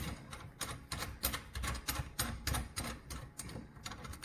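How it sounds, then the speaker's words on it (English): Screws tightened while mounting a garbage disposal under a sink, a rapid run of sharp, evenly spaced ratcheting clicks and taps, close up and without speech. "So now what we're going to do is just tighten up our screws"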